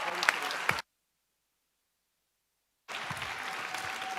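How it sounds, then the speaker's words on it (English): A conference crowd at an entrepreneurship event claps for the Talent Garden team in two bursts of applause with a short silent gap between them, moderately loud and close. "Give them a round of applause, everybody."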